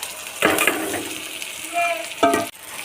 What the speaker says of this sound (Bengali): রসুন ভাজা হয়ে গেছে, এতে 1 চা চামচ লঙ্কা গুঁড়ো, 1 চা চামচ হলুদ গুঁড়ো দিয়ে দেবো।